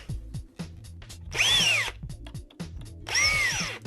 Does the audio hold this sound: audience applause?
no